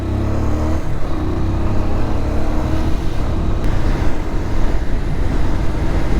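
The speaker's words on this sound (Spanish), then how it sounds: "Moto muy buena esta Pulsar 180 para viajar" A Pulsar 180 motorcycle cruises along a rural road in Tolima, Colombia, its engine droning steadily with strong low rumble and rushing wind noise throughout.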